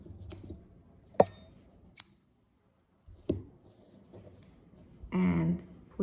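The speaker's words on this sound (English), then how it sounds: "Then we can cut the yarn" Scissors snip through yarn with a few sharp, close clicks and cuts, mixed with quiet handling noises and a short burst of speech near the end.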